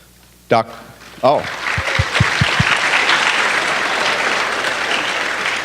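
Audience applause at a school board of education meeting: a couple of short voices and scattered claps, then a steady crowd clapping that fills the room and continues evenly.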